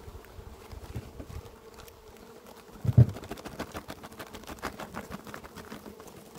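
A steady, low hum of many honey bees from a swarm buzzing close by in an opened hive, with a brief thump midway and a busy, fluttering texture throughout.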